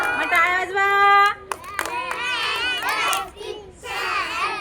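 Children clapping together during a playful school language activity, a burst of hand claps mixed with excited kids' voices and an adult speaking nearby.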